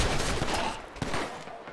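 Police open fire in GTA 5, a loud rapid burst of overlapping gunshots at close range that thins out and fades after about a second.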